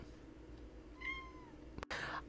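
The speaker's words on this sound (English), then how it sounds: "And I have a kitty cat talking to me." A cat meows a few times, short clear calls rising over faint background noise and a low room hum, with one louder meow near the end.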